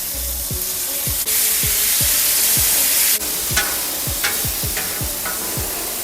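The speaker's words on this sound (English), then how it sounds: "One last sear, guys." Pork belly burnt ends sear loudly on a hot Blackstone griddle with a constant close sizzle, cut by a regular series of low thumps and scrapes as a spatula works the meat.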